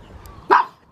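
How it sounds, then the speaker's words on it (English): A dog lets out a single short, sharp bark, loud and close against quiet outdoor background. "What are you barking at?"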